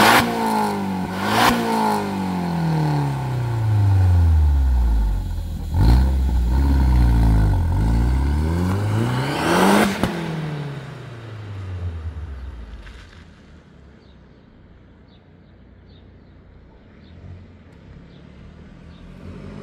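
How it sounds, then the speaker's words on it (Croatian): A turbocharged Seat Ibiza with a muffler on the exhaust revs loudly and close, rising and falling in several sweeping pulls before settling back to a quieter, fading rumble. "Sad ćete samo malo da čujete auspuh sa prigušivačem"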